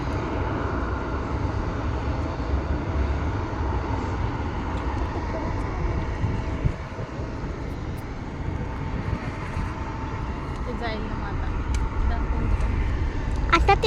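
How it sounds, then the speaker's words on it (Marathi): An airplane takes off at a Washington DC airport, its engine a broad steady roar that stays loud throughout while a person talks nearby. "हे टेक ऑफ घेत आहे।"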